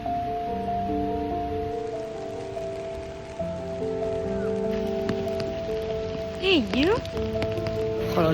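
Rain falls on a London street at night, a constant soft hiss beneath sustained tonal notes and a brief warbling sweep.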